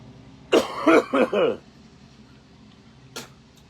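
A harsh burst of four close coughs in quick succession, then quiet, followed by one short faint cough a moment later.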